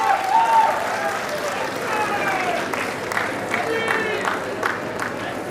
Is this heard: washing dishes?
no